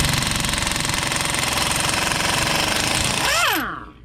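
A small Harbor Freight Earthquake impact wrench, about 550 foot-pounds, hammers loudly in a steady rapid burst removing wheel nuts on a 2011 Nissan Altima, then spins down with a falling whine as it stops.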